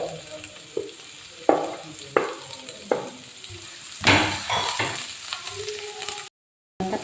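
Onion, dried red chili, ginger and capsicum sizzle in a pan for corn rava upma, with steady frying hiss punctuated by sharp, periodic stirring scrapes and knocks, close up and without talking.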